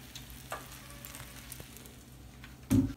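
Fish frying in hot oil for a Jamaican Sunday dinner, a low steady sizzle of small crackles with a louder burst of spattering near the end.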